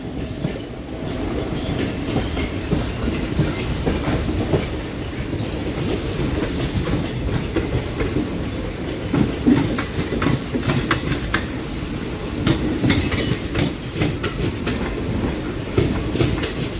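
Train noise from a delayed Charlapalli–Tirupati summer special passenger train, hauled by twin WDG-6G upgraded diesel locomotives, as it rolls along the rails. A steady rumble carries irregular wheel clicks and faint squeals throughout, with no talking.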